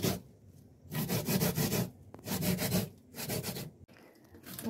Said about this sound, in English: Now time to grate.